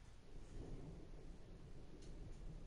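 Thunder from a storm in the video game Farming Simulator 19, a low, steady distant rumble rolling on throughout, fairly faint and without talk.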